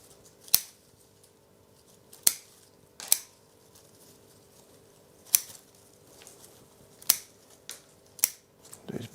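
Pruning shears make sharp, crisp snips as they cut back Manna Ash bonsai branches during hard pruning, about eight distinct close clicks spaced irregularly over quiet background, with faint talk between them.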